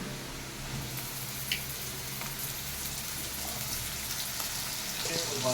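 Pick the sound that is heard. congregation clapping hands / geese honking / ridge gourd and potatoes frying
ridge gourd and potatoes frying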